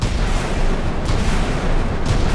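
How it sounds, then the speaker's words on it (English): Arleigh Burke destroyers and a Ticonderoga cruiser launching missiles in a Sea Power naval battle: a continuous dense roar of rocket motors with two brief louder bursts, steady and loud with no talk. "Arleigh Burke and Tico firing their MSTs"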